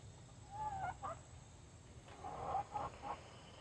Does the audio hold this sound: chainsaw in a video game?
no